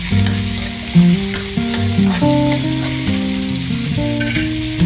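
Pork belly fries with garlic and onion and is stirred in a pan. A constant sizzle and occasional utensil knocks sit beneath prominent background music.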